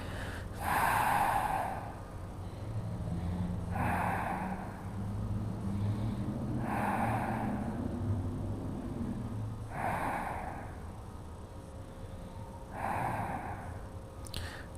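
Slow, deep breaths during a strong yoga flow class, each long airy inhale or exhale repeating about every three seconds, close and clear over a low steady background hum.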